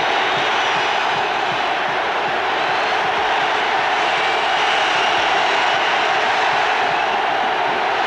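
A large stadium crowd standing and roaring for the Buffalo Bills defense on third down at an American football game, a dense, continuous, loud wash of cheering with no breaks.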